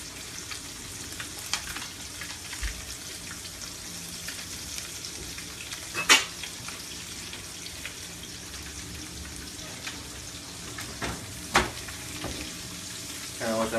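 Fish frying in butter in a pan, a continuous close sizzle with scattered sharp pops and a couple of louder clatters of utensil against pan, no talking over it.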